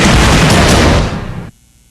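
An explosion at the Fukushima nuclear reactor in Japan after its cooling system failed, heard as a loud, broad roaring blast that rumbles on for over a second before cutting off abruptly.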